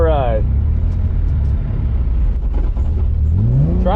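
A Nissan 240 engine drones and revs from inside the car while drifting, a loud steady rumble with rising revs at the start and end, and people talking over it.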